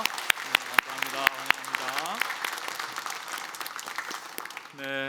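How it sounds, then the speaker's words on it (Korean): A church congregation claps together at a Sunday service, opening with a few sharp separate claps that merge into steady applause, while a sustained tone, likely an organ or keyboard, hums underneath and swells near the end. "우리 다시 한번 하나님의 박수 하도록 하겠습니다"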